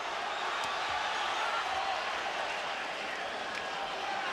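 Spectators at the 1997 Erik Morales vs John Lowey boxing match create a dense, unbroken wash of cheering and arena noise. A few faint sharp knocks rise above the din.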